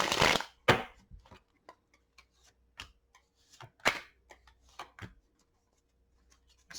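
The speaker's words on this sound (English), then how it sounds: "Let's get one more shuffle." Tarot cards are shuffled by hand in sparse, crisp riffles and taps, with a few louder snaps among quieter ones and silence between them.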